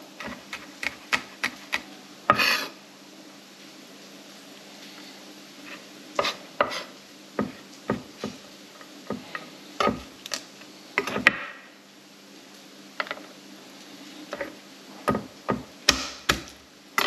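Fresh garlic is chopped with a knife on a board, sharp close taps arriving in quick irregular bursts separated by brief pauses, alone without speech.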